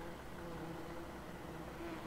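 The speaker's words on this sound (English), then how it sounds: "Because I can hear the bees buzzing." A low, steady insect-like buzz of bees in Farming Simulator 17, humming continuously at a soft level with no other sounds.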